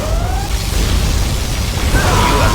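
A particle cannon strike in the video game C&C Generals Zero Hour, heard as a loud, sustained roaring blast with a dense rumbling body and a rising whine, continuous throughout with no pauses.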